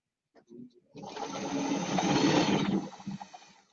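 A sewing machine chain-pieces quilt units, stitching one column onto another in a steady, continuous whir that runs close and loud for a few seconds, with short bursts of stitching before and after.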